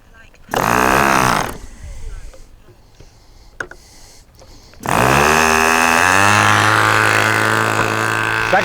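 A Sonic Hi Wing SH46 glow engine fires up for its first start, a loud, high-pitched buzzing burst that cuts out after about a second, then roars back and runs steadily and close at full volume.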